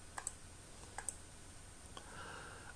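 A computer mouse gives a few sharp, quiet clicks in small clusters, spaced about a second apart, over a faint steady room hum with no talking.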